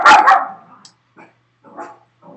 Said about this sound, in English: noisy dog